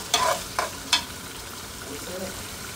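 Fish cooks in a pan over lowered heat. Three quick spatula scrapes sound over a low, steady sizzle, close by.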